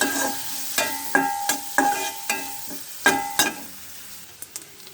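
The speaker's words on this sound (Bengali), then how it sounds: "দেখেন শুটকিটাকে সুন্দর মতো ভেজে নিয়েছি একদম লাল লাল কড়া করে ভেজে" Dried fish (shutki) fries in a pan. Several distinct metallic scrapes and taps of a spatula, some ringing, sit over a soft sizzle, coming in an irregular series close by, and nobody talks.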